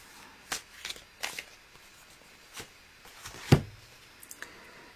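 Tarot cards are shuffled by hand in several brief papery riffles and slaps, close and fairly quiet, ending in one sharper snap, with no talk.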